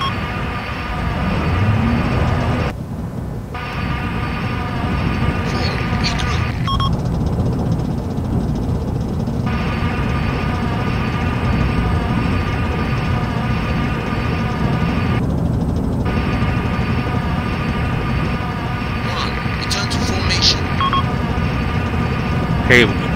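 A Chinook helicopter in a realistic military video game drones with a steady low rotor and engine rumble throughout, joined by gunfire-like bursts and a few high tones, as people talk over it.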